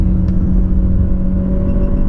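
A 2019 Mazda 6 with the 2.0-litre SkyActiv-G engine, roughly 160 hp, climbing a hill smoothly: a steady, loud low engine drone and road rumble fill the cabin, without a break and with no talking.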